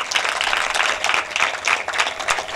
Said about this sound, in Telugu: కొట్టండి యేసయ్య గట్టిగా చప్పట్లు